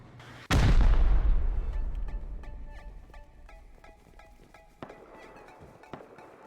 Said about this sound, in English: They're just going to keep pummeling those rockets through that center.